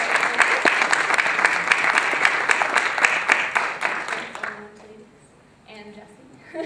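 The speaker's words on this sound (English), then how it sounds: "To stand up so we can all give our organizers a lovely round of applause as well." An audience at a 2011 Canadian election debate on healthcare at the University of Toronto applauds its organizers, with steady, dense clapping that fades after about four seconds into a quiet room with faint murmurs.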